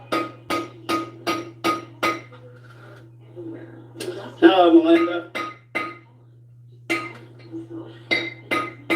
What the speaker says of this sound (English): You got one of them Dollar Tree hammers there?